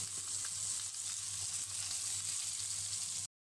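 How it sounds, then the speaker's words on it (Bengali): Small fish sizzle steadily in hot oil in a pan, a close, continuous bright crackle and hiss with no talking, cutting off abruptly near the end. "তেল গরম হয়ে গিয়েছে, আমি এখন মাছ দিয়ে দিলাম।"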